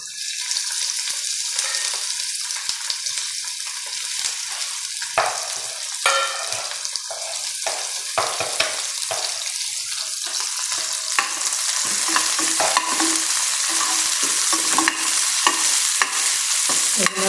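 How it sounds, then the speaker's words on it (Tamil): Garlic fries in hot sesame oil with a steady crackling sizzle, joined by occasional scraping and stirring sounds that grow busier toward the end. "இப்போ இதை வந்து தனியாக இதில் போட்டு பொரிக்கணும்."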